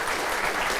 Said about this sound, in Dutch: een daverend applaus voor de bottom bitch van deze Hugh Hefner, Rick Broers